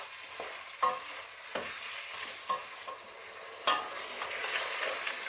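Garlic, onions and celery sizzle gently in a pan for an Italian cream and mushroom chicken dish. A soft steady frying hiss is broken by several sharp spoon-on-pan knocks as it is stirred.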